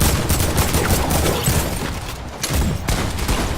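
Gunfire from a flintlock pistol in the video game Fortnite, loud and dense with overlapping shots and booms throughout, no one speaking over it.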